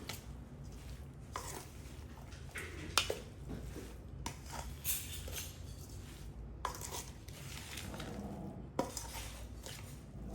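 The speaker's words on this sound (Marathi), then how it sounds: "आणि आपण आता हे तेल यावरती घालणार आहोत. आणि हे छान आपण मिक्स करून घेणार आहोत." Oil being stirred into a lemon peel pickle, a spoon scraping and clinking against the bowl in uneven bursts over a steady low kitchen hum, with no talking.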